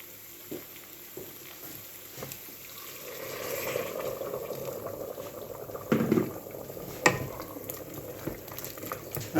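Water poured into a hot pan of curry potatoes coated with tomato puree: a soft sizzle rises into a bubbling, boiling hiss, with a few louder splashes and clunks near the middle and end, close by, with no speech.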